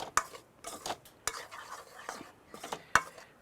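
A spoon scrapes and stirs masala powder of fenugreek and turmeric roasting in a pan for a Kerala mackerel curry, with several sharp metallic knocks and soft scraping strokes, quiet and close.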